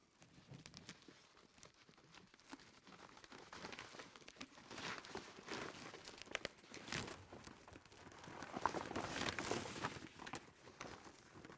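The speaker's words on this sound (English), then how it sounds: "Literally just take the panel, slip it in the bag." A panel slides into a plastic vacuum bag, producing soft, continuous crinkling and rustling of the plastic at close range, swelling and fading irregularly with small crackles throughout.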